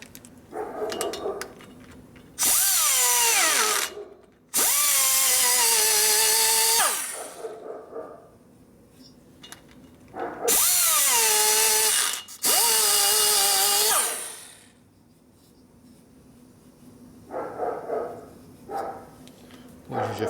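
A power tool fitted with finishing cutters smoothing new Screamin' Eagle 110ci Harley touring cylinder heads, in several loud, close bursts of high whining grinding, each lasting a couple of seconds, separated by quieter gaps.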